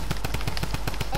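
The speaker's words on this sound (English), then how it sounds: "I have a hand cannon" Rapid hand cannon gunfire in the Fortnite video game cracks out in a quick, regular burst of about eight sharp shots, close and loud, with no talk over it.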